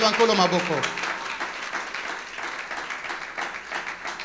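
A church congregation applauds and cheers in a loud burst that tapers into scattered clapping, with a voice speaking over it at the start.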